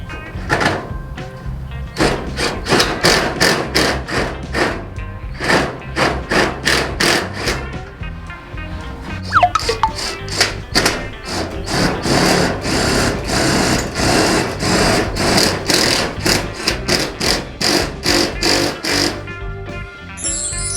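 An IMAX IMIS-12V 12V cordless impact driver drives screws, giving loud, close bursts of rapid mechanical hammering that start and stop in a steady series with short pauses between runs.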